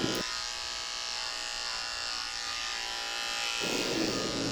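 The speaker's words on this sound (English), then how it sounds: "Shaving out the corners of his eyes with a 15 blade." Electric clippers with a 15 blade buzz steadily and close up while shaving a schnauzer's face around the eyes, with the motor's pitch shifting slightly as the blade works through the hair.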